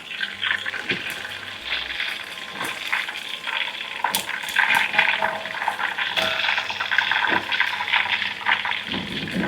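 Steady sizzling and spattering of white tuna frying in hot oil, close up, with occasional louder pops and crackles.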